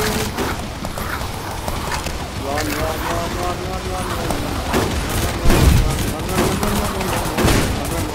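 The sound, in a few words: gunfire in the video game Zombie Survivors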